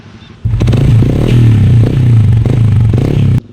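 Motorcycle with an open-pipe exhaust, a loud close engine drone that kicks in abruptly and holds a steady throbbing roar with slight revving swells before cutting off sharply.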